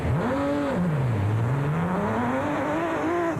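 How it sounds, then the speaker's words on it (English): A Chevy NASCAR V6-powered racing car pulls away from the start line at the Baberspan 500 rally race, its engine revving up, dropping and climbing again in one loud, close sweep with no talk. "The Nobles were next off the line in the Chevy NASCAR V6-powered Aceco. The rest of the field followed in quick succession."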